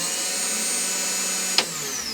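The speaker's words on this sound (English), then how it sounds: "this is my crankcase electric evac pump. It's a smog pump." An electric smog pump rigged as a crankcase evacuation vacuum pump on a 400 small-block Chevy whirs with a steady, close, continuous tone, broken by one brief sharp click about three-quarters of the way through.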